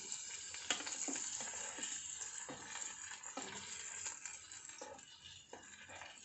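Chicken coated in Kobe seasoning frying in oil that is still not quite hot, giving a steady, fairly quiet sizzle with faint crackles and a few small pops.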